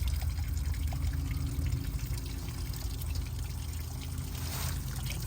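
Fluid drains steadily from an old cabover truck that has not started in 25 years, after the drain plug is pulled, a continuous close pouring and trickling wash running the whole time with no talk over it.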